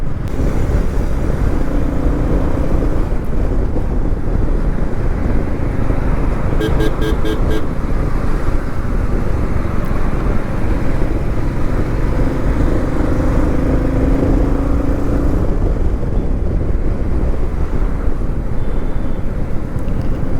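Loud, steady road noise from riding a cruiser motorcycle in traffic on an Indian road, with engine rumble and wind rush, and a brief series of horn-like beeps midway.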